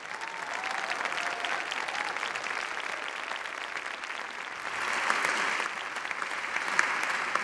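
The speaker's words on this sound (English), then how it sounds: "Please join me in a round of applause to the graduate." Sustained hall applause for a doctoral graduate at an Imperial College graduation ceremony, a dense steady patter of many hands that swells a little louder near the end, with no talk over it.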